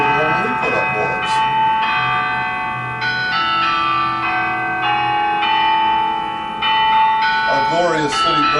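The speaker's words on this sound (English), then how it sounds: "Our glorious city bell." A city bell in Alabama rings loudly and close, its resonant tolls overlapping and sustaining, with a voice talking faintly beneath at the start and end.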